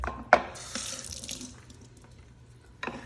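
Tomatoes are rinsed under a running kitchen tap, with water splashing and gushing in bursts, a sharp splash near the start and another at the end, close and moderately quiet with no talking.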